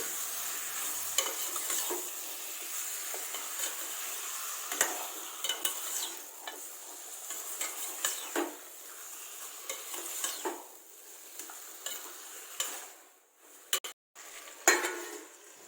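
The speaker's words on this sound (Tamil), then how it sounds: "சிக்கனை சேர்த்து அடுப்பை லோ ஃப்ளேமில் வச்சு ஒரு 4லேருந்து 5 நிமிஷம் வரைக்கும் நல்லா கலந்து விட்டு மூடி வேக வச்சிடலாம்" Chicken is stirred in a pan over a low flame, with a gentle continuous sizzle under repeated scraping and clinking of a spoon against the pan, close and moderately loud, falling briefly quiet near the end.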